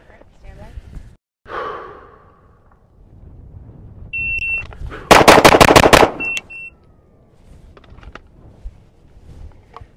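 Sharp, loud gunshots crack in a rapid string of about six evenly spaced shots during a timed shooting run, flanked by electronic timer beeps, with breathing and faint movement before and after.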